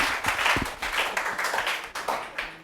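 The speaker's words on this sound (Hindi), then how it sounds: "एक बार तालियां ऐसे गुरुजनों के लिए जोर" Clapping from an audience at a school ceremony honouring students and teachers, a moderate, somewhat uneven patter of hands with a few sharper individual claps, fairly close and steady.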